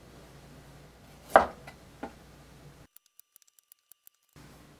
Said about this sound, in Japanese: 小芋の両端の硬い部分を包丁で切り落としてください